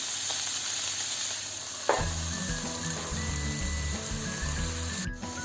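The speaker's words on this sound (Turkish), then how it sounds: "Evet soğanlarımız birazcık kavruldu." Onions, and then peppers, fry in a covered pan for Turkish sac kavurma, giving a loud continuous sizzle with a low bubbling rumble that starts partway through.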